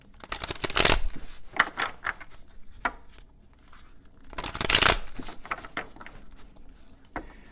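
A Shadowscapes tarot deck being shuffled, two loud close riffling bursts separated by softer card taps and slides.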